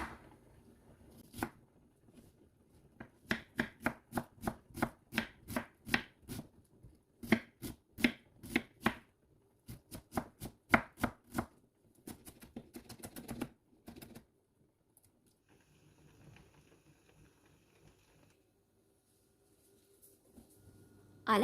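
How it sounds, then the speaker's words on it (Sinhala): Onions being chopped on a board for a potato dumpling (vareniki) filling: a steady run of crisp, close knife strikes in quick rhythm, pausing briefly, then more cuts before trailing into near silence. "මම දැන් ෆිලින් එකට ඕන වෙන ලුණු ටික කපා ගන්න තමයි හදන්නේ."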